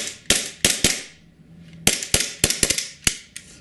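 A WE G18C Gen4 gas blowback airsoft pistol firing semi-auto: loud, sharp cracks with echo, three shots, a pause, then six more in quick irregular succession.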